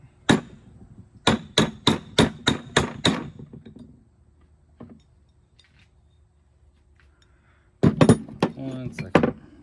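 Metal hammer blows on a Kawasaki Mule clutch part during a clutch rebuild: a quick run of about seven sharp, loud, close strikes, a pause with faint handling noise, then another burst of strikes with some brief talk.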